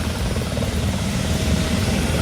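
A helicopter at a village fair in Haveri gives off a loud, steady roar of rotor and engine noise that holds unbroken throughout, with no clear voices.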